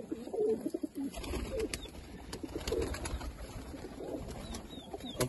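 Pigeons, including golden fancy pigeons, coo softly in a series of low, repeated calls, fairly close, with faint background noise and an occasional flutter.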